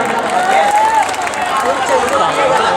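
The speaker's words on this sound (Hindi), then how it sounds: "एक बार जोरदार ताली बजा के इजाजत है।" Audience at an All India Mushaira poetry gathering in Shahi Katra, Mau, applauding loudly and steadily for about three seconds, a dense wash of clapping mixed with crowd noise and a voice heard faintly over it.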